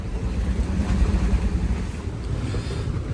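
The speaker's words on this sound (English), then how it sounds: "but also really windy. You know, it's like 21, 22 knots of wind." Strong wind of around 21 to 22 knots buffets a sailboat sailing alone at sea, a loud continuous low rumble and roar of gusts against the microphone with water rushing beneath.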